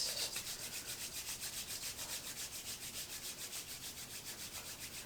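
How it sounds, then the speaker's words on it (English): Palms rub briskly together at heart center to build warmth, a close, soft swishing friction repeated in a steady rhythm of quick back-and-forth strokes during a Kundalini yoga practice. "bring your palms together at heart center and rub them together,"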